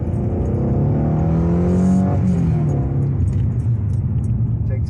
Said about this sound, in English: Takes off pretty well.